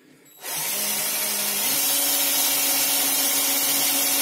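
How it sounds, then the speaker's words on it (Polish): Power drill with a small bit boring a hole into a wooden cabinet board, starting abruptly and then a continuous steady whine that rises slightly in pitch. "Teraz wiertełko,"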